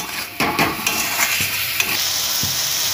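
Spice masala for a jackfruit kalia being sautéed in a pan, with steady broadband sizzle and a series of sharp spoon scrapes and clacks against the pan, close and fairly loud, with no talking.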